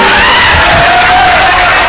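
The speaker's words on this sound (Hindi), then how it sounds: "एक जोरदार तालियां बजाएं नेहा सर के लिए।" An audience at an all-India mushaira poetry gathering applauds and cheers for a poet, a loud, dense wash of clapping and shouting that fills the whole stretch without a break.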